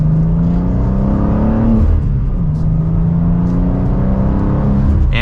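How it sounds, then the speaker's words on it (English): From the cabin, a 2023 BMW M2 with a manual gearbox pulls hard, the engine rising in pitch, dropping at a gear change, then climbing again, loud and close with no talking. "And with one last acceleration for today, that is it for the 2023 BMW M2."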